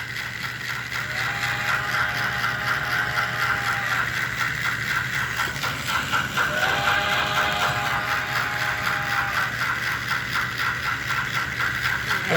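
A Lab Royal Blue model train runs with digital sound, giving a steady mechanical rattle and hum with two rising whistle-like tones, loud and close throughout.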